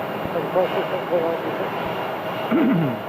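A faint, steady rumble from an Embraer airliner taxiing and pushing back at Phoenix Sky Harbor airport sits in the background while a person talks over it.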